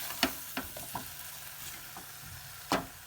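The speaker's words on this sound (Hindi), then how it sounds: "कम आँच पर में सब मसाला आलू प्याज के भूज लेबै" Potato, onion and spices frying in a pan over a low flame for kumhrauri, a soft continuous sizzle broken by several scraping stirs of a spoon, close and quiet, with no talk.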